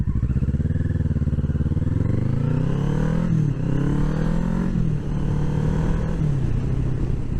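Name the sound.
Kawasaki ER-6f motorcycle being ridden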